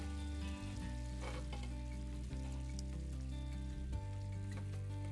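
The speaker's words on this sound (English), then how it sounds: "Now the next thing I'm going to do is I'm going to push all of my paillards up to one side of the skillet." Chicken paillards sizzle steadily in a skillet as they are pushed to one side, a continuous close frying hiss with a few soft scraping bumps.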